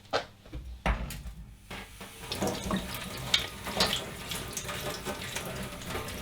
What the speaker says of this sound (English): just using cold water, just give this a rinse underwater